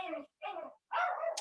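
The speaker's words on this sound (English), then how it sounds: "Sorry, the dog. I'll go outside in a minute." A dog barks indoors in three short bursts separated by brief pauses, moderately loud and close, with no talk over it.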